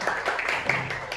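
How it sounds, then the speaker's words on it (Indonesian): Schoolchildren in a class applaud together in a short burst of steady clapping that fills the whole moment, with no voices over it. "Tepuk tangan buat"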